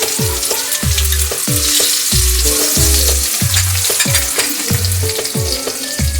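Chopped onions fry loudly in hot oil in a pan already seasoned with bay leaf and dried red chilies for a Bengali egg tarka, a dense, continuous sizzle with repeated stirring scrapes, close and with no voices.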